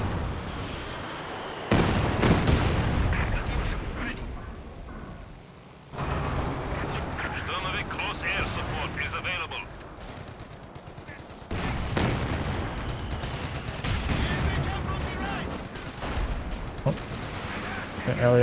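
A mortar creeping barrage in the Company of Heroes 2 strategy game, with repeated artillery blasts and thuds mixed into ongoing small-arms and machine-gun fire, loud and sustained across the whole stretch, with a caster talking throughout.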